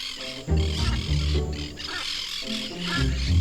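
Loud, harsh squawking calls from hyacinth macaws and monk parakeets overlap continuously, close by, with raucous screeches rising and falling throughout.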